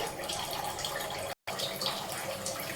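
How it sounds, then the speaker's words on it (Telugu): A pan of water at a hard boil over a high flame, for sago and vermicelli payasam, gives a steady, dense bubbling hiss that fills the clip. One very brief dropout falls near the middle. "వాటర్ బాయిల్ అయిపోయినాయండి."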